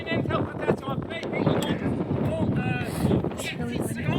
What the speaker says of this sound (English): Now a bit windy up here all day.